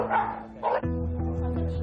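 A dog at a Hong Kong dog café, aggressive toward other dogs, gives two sharp close barks, then a steady low harmonic growl-whine carries on to the end.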